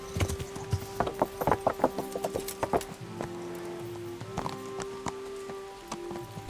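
Horse hooves clip-clop in a quick, close, uneven rhythm in the video game Kingdom Come: Deliverance, with steady tonal background game sounds beneath them.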